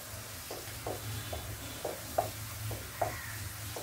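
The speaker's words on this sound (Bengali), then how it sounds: "দেখতে পাচ্ছেন, আমি এই পর্যায়ে নাড়াচাড়া করে নিচ্ছি। আমার পেঁয়াজটা হালকা বাদামি হয়ে আসছে।" Onions turning light brown fry in a pan with a steady soft sizzle, while a utensil stirs them in a run of regular scraping strokes about every half second, close by.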